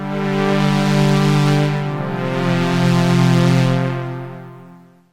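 A retro synth patch built in Serum with a filter envelope, full sustain and the release at half. It plays as one rich, sustained chord that swells gently over several seconds and then fades out at the end.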